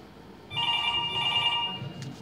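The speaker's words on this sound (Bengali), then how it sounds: "ফোন বেজে উঠল" A telephone rings with an electronic bell tone that starts abruptly after a quiet moment and holds steady for about a second and a half, then stops.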